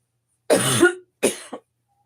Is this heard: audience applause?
no